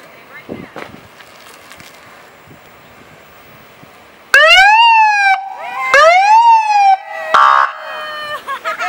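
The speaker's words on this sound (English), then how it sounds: "Can you run the siren?" A Ventura police car siren wails loudly with sweeping, warbling tones and a few whoops, starting suddenly after quiet background sounds at a children's birthday party.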